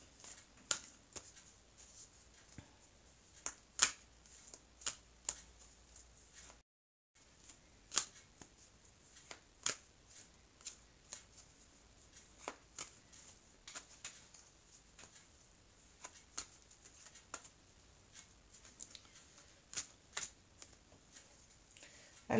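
Oracle cards shuffled by hand, a long run of crisp irregular snaps and riffling clicks close to the mic with a brief silent gap, quiet between bursts and with no voice heard.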